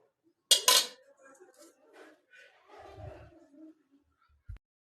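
Hot rice is served onto a plate with utensils in a home kitchen, starting with a sharp metallic clatter and followed by softer scraping and light clinks, then a final tap, with no talking.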